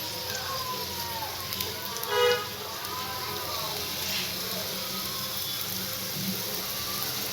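Wheat flour and onion snack pieces frying in hot oil on a low flame give a steady, soft sizzling crackle throughout, close by, with a brief louder bubbling moment early on.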